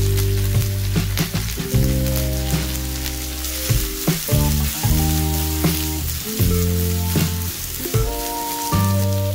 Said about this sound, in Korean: 그냥 다 때려넣고 볶으시면 됩니다.